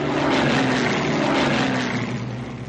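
A Hawker Hurricane fighter's piston engine drones steadily as the plane flies past, a loud continuous propeller roar that fades slightly at the end.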